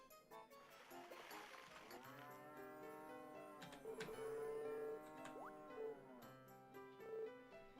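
A cow in the Harvest Moon DS video game gives a drawn-out tonal moo over game music, moderately loud and sustained for a few seconds.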